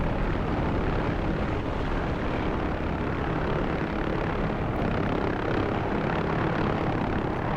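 Dense, steady rotor and engine drone of a video game helicopter, loud and continuous throughout with no talk, a constant broadband roar.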